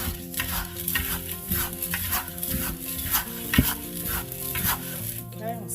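Dry oatmeal, baking powder, cinnamon, nutmeg and salt stirred together in a bowl for muffins, a steady rhythmic scraping and swishing with light clinks of the utensil against the bowl.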